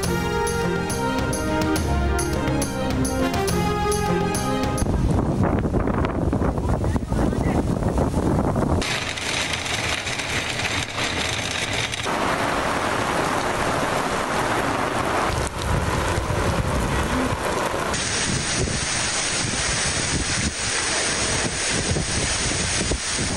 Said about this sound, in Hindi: शदीद गर्मी के बाद रावलपिंडी और इस्लामाबाद में तेज़ हवाओं के साथ तूफानी बारिश